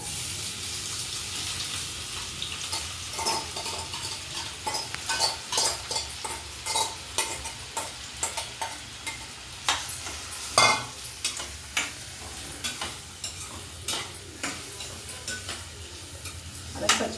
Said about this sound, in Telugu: ఆయిల్ సాగింది ఉల్లిపాయలు అయితే వేస్తున్నాను